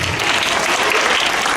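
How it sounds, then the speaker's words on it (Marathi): An audience clapping at a school foundation day, dense continuous applause from a crowd, loud and close throughout the short stretch. "सर्वांनी टाळ्या वाजवायच्या आहेत"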